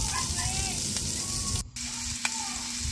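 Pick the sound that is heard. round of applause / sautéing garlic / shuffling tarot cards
sautéing garlic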